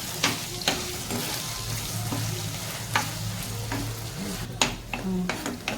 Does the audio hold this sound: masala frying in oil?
yes